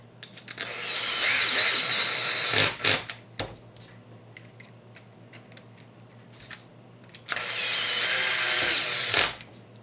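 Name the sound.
power tool driving the two long screws into an RC8B4 rear end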